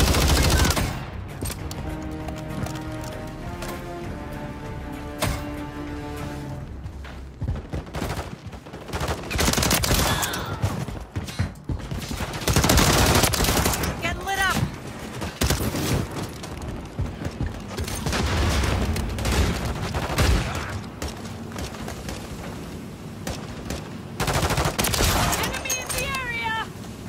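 Rapid bursts of automatic gunfire and scattered single shots from Call of Duty, loud and sustained across the whole stretch with booming impacts, while voices speak over the firefight.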